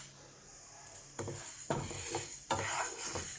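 Moong dal frying in a pan over a low flame, with a soft steady sizzle and a few clear scraping stirs and clinks against the pan, close by and moderately quiet.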